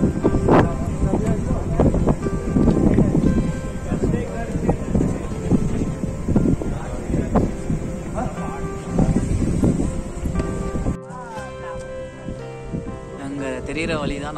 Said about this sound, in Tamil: இப்போ நாங்க நிக்கிற இடத்துலயுமே லைட்டா சில்லுன்னு காத்து வருது.